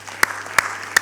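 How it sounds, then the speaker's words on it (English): An audience applauds at a university graduation ceremony. A steady wash of clapping from the crowd is punctuated by a few sharper, louder claps in a loose rhythm. "Let's give our high diplomas a big round of applause."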